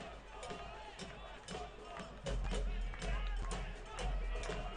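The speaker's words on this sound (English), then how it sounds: "Crowd is willing them on to get the winner." Stadium crowd noise at a NISA Fall Showcase soccer match between Chattanooga FC and Stumptown Athletic, a steady roar of fans urging the team on late in the game, swelling louder midway, under faint commentary.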